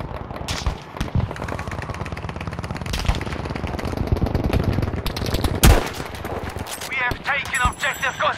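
Rapid bursts of automatic gunfire in Battlefield V multiplayer crackle densely with scattered heavier booms, loud and continuous, with a voice talking over part of it.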